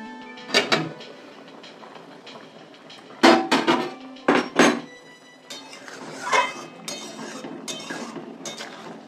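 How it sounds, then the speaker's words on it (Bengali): Metal clanks and clinks as a lid is set on a cooking pot of potatoes and pointed gourd, several sharp knocks in separate bursts followed by softer rattles, close and clear with no talk. "আলু পটলটা সেদ্ধ হোক বন্ধুরা, আমি ঢাকা দিয়ে দিই।"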